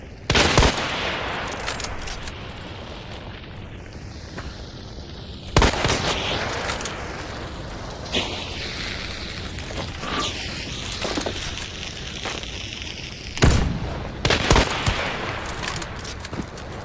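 Video game shootout in a bayou setting, with sharp gunshots and bursts of rapid fire cracking loudly at intervals over a rumbling, busy background, including heavy blasts near the start, middle and end.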